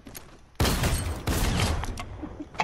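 Fortnite video game gunfire, two sharp bursts of rapid shots close together, then fainter scattered shots, fairly quiet overall.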